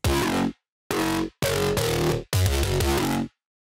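A synth lead patch built in Serum, modeled on a track, plays four bright, harmonically rich phrases with short silent gaps between them, each note stepping through a melodic line, loud and alone.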